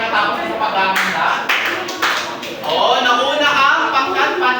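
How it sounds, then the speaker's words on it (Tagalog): Students in a classroom clap their hands, several quick bursts of clapping mixed with overlapping voices and chatter, close and fairly loud. "Pumalakpak kung kayo ay natapos sa paghahanda."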